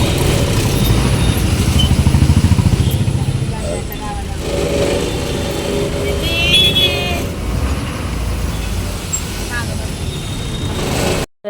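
Steady broadband road rumble and engine noise fill the cabin of a vehicle travelling toward Mandva village, with people talking throughout over the continuous drone.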